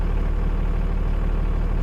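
A 2002 Dodge Cummins 24-valve 5.9 liter diesel with an Edge chip and a 5 or 6 inch exhaust, idling with a steady low rumbling throb, close and even, no talking over it.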